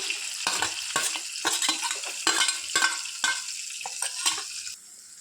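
Sliced onion fries with mustard seeds and cumin in a pan for an eggplant curry, giving a steady close sizzle broken by rhythmic scraping and stirring strokes of a spoon against the pan.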